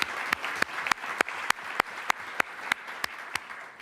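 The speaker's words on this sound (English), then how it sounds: "let's clap it up." Scattered audience applause at a celebration event for James Baldwin's 100th birthday, heard as faint, fairly slow, regular claps in a quiet room, fairly distant.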